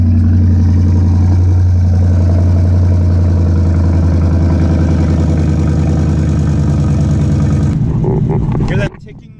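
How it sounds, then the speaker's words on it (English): A 2012 Mustang Boss 302 engine idles steadily and close, with a light, fast ticking from an exhaust leak riding on the rumble before it cuts off near the end. "that tick noise, unfortunately, is where there's an exhaust leak"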